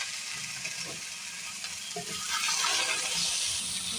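Chilli, cumin and coriander powders fry in a pan while being stirred for a fish curry, a continuous close sizzle that grows louder and busier partway through, with no talking.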